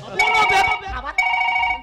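Telephone ringing in two bursts, the second following a short break, with a bright, close trill and a faint background voice.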